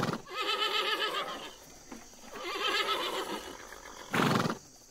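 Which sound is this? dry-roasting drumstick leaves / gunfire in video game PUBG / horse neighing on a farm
horse neighing on a farm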